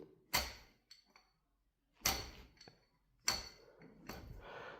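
A damaged front fork on a KX 500 motorcycle slams down three times, each a sharp close metallic thud with a short rattling tail, separated by pauses and faint clunks.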